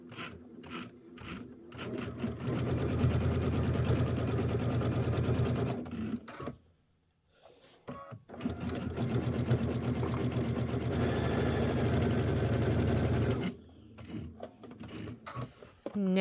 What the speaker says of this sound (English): But I do sew a couple stitches off when I'm chain piecing.